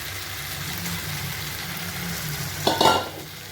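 Potatoes and a fried fish head are stirred in spice paste in a pan, a low steady sizzle with a sharper burst of frying and a spoon scrape near the end.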